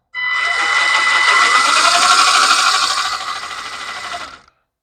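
A Losi Chase Elliott NASCAR RC car runs its motor and differential at half power with a loud, steady high-pitched electric whine and rattle close by, lasting about four seconds before cutting off.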